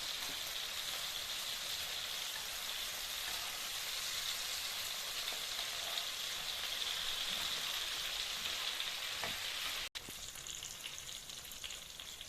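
Tomatoes sizzle and crackle steadily in a hot pan, a continuous frying hiss with a brief interruption near the end.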